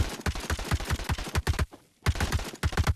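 A video-game weapon fires in rapid automatic bursts, a close, punchy string of shots that stops briefly before resuming.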